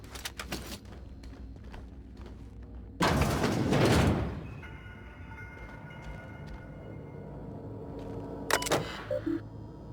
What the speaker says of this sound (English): Unlock office door.